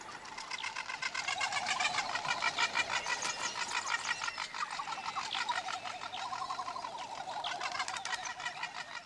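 Frigate birds, also called man-of-war birds, calling in a dense, continuous chorus of overlapping chattering and clucking cries, fairly close and steady throughout with no talk.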